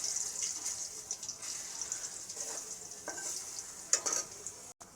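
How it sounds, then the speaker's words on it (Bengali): Lentil cakes (dhoka) frying in mustard oil, a soft continuous high sizzle with occasional louder crackling bursts and faint handling sounds, heard up close and alone. "এবার ধোকার এগুলো আমি দিয়ে দেবো, দিয়ে ধোকাগুলো ভেজে নেব।"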